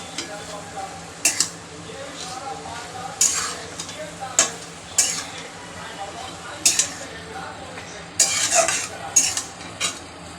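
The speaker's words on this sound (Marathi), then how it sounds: "मीठ टाकून याला चांगलं परत मिक्स करून घ्यायचं" Fenugreek greens with salt being stirred in a pan, a spoon scraping and clinking against the metal in sharp, irregular bursts over a faint sizzle, close by, with no talk.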